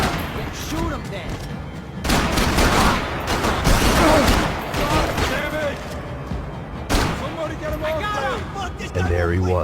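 Cutscene gunfire from Max Payne 3, with dense overlapping bursts and heavy thuds rolling through the scene, loud and sustained, while voices speak over the shooting.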